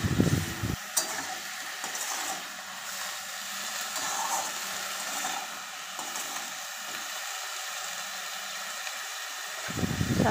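Bottle gourd greens stirred in a pan with salt and turmeric, a soft continuous sizzle with scattered scraping clicks of the spatula, quiet and close, no voices.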